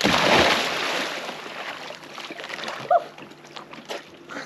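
Someone plunges into a river current for a swim, making a broad splash at the start, then softer sloshing and a few small splashes in the water that follows.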